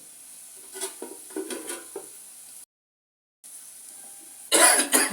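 Freshwater lake fish frying in a pan gives soft stirring scrapes, then a brief pause and a bright burst of loud sizzling at the end.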